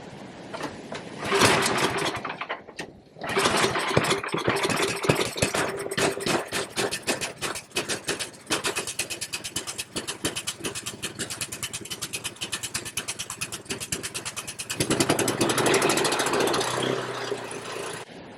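A snow blower engine at an off-grid cabin runs close by for a long stretch, with rapid, even firing pulses and a brief surge in loudness near the end.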